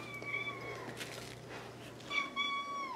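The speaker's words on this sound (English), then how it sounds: "That's where I keep the cat." A cat meows in a craft room, opening with a drawn-out harmonic cry and returning with a second clear, loud meow near the end over a low steady hum.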